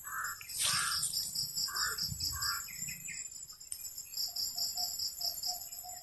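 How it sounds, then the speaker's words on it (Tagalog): A crow caws in short repeated calls against a constant shrill drone of crickets and insects outdoors, the cawing coming in two bursts of rapid notes at moderate distance. "May uwak na naman"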